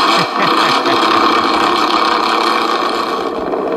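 An RC Chevy K5 Blazer 4x4 truck's electronic sound kit idles loud and close, a steady, dense engine rumble with a few low throb pulses at the start, running alone without speech.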